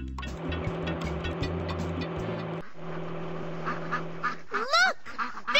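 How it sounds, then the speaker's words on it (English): Baby ducks quacking on a road in a Dora the Explorer video game, a few short chirpy quacks near the end over steady game music. "Look! Baby ducks!"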